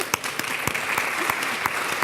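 Audience applause at a gender balance session of the World Government Summit 2019, heard as a steady wash of scattered clapping with a few sharper individual claps standing out, moderately loud throughout.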